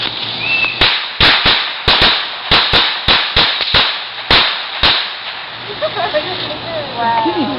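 Daytime firecrackers pop in a quick, uneven string of about a dozen sharp, loud cracks, then fade into quieter outdoor background with faint voices.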